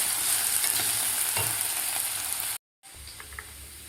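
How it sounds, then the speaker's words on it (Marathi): Raw potato pieces frying in a pan for Maharashtrian sabudana khichdi, giving a steady close sizzle with a few stirring knocks, briefly cut to silence near the end before the frying resumes. "3 ते 4 मिनिट आपल्याला हे बटाटा फ्राय करायचा आहे"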